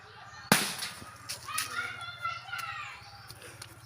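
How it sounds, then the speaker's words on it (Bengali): A plastic bottle bursts in a home experiment with one sharp, loud bang, followed by excited voices and chatter from people close by. "এই বোতলটি ব্লাস্ট হলো"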